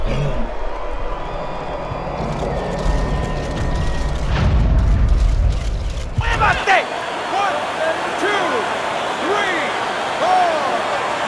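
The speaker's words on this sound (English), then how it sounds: "What a hook to the body, and he is down and in bad shape." A body hook lands and drops a fighter in the Fight Night Champion boxing game, with a heavy thud and a roaring arena crowd that surges then fades, under continuous commentary.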